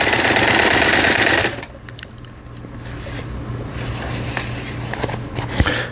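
A Singer 8280 sewing machine running a zigzag stitch, loud and close: a steady motor whir with a faster, brighter burst at first, then a lower, continuous rattling hum with light mechanical ticks.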